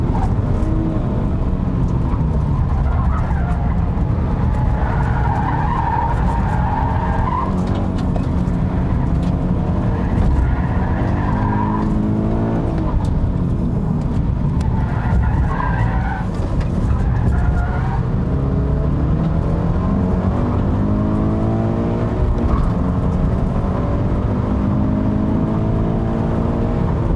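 A Subaru BRZ laps a race track, its engine droning loud and steady from the cabin, pitch rising and falling through gear changes and corners, with no talking.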